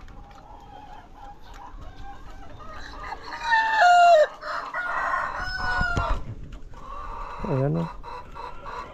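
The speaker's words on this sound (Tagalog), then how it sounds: "Andito yung rooster natin" A rooster in a backyard coop crows loudly and clucks close by, with someone speaking briefly over the bird sounds.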